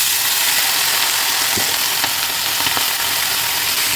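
Pui greens tossed into a hot pan with browned onions, a dense steady sizzle with a few faint scrapes of stirring, close and loud, without speech.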